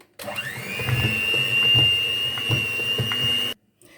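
An electric hand mixer whirs at a high steady whine while beating powdered sugar into cinnamon-roll frosting, with rhythmic knocks of the beaters against the bowl. It runs for about three seconds, then cuts off abruptly.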